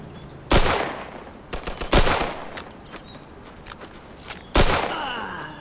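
Gunfire in Mafia 2, loud, close shots spaced over several seconds: a big blast, a quick cluster of smaller reports, another heavy shot, then a final loud one with a ringing tail.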